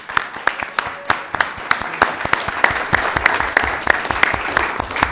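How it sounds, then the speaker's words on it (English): Applause rises from an audience at a union gathering in San Bernardino County, a dense patter of clapping hands that grows fuller and holds steady, close and loud. "Let's give them a round of applause."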